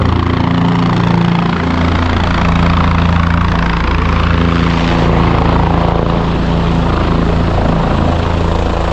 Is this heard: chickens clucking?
no